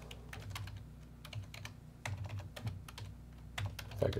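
Quick, uneven keystrokes clatter on a computer keyboard up close, bursts of tapping with short pauses, moderately quiet and with no talking.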